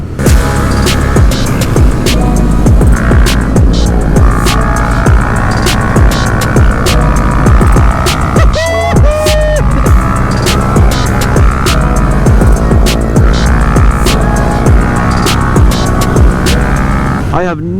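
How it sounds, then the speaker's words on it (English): A 2025 Honda Grom small motorcycle ridden slowly in a parade lap among about a hundred other Groms, a dense steady buzz of many small engines with shifting tones and a passing rise in pitch near the middle, loud and continuous throughout. "this little bike is a lot of fun to ride"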